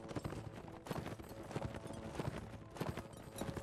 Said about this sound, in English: This horse feels a little bit slow.